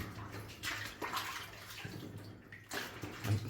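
Water trickles and gushes in uneven surges inside a flooded Cornish tin mine, close and moderately loud, echoing faintly in the enclosed rock passage, with no speech.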